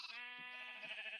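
A single sheep bleats in the Minecraft video game: one wavering, nasal cry lasting about a second, clear and alone.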